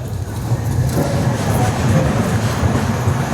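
The Hazur Sahib Nanded Hadapsar Express rolls at Jalna station with a loud, steady low rumble and faint rail clatter, heard close from on board.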